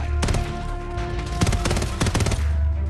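Rapid automatic fire from the WSP Swarm submachine gun in Call of Duty: Modern Warfare III, loud sustained bursts with brief pauses between them.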